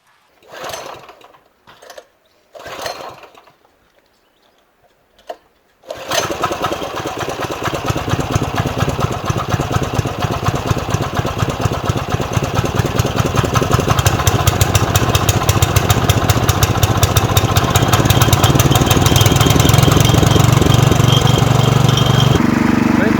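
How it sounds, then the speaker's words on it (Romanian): Ruris 732K motor tiller with a small petrol engine: a few short pull-start tugs, then the engine catches and settles into a steady, loud, close idle that runs on without a break. "Acum trebuie pornită motosăpătoarea."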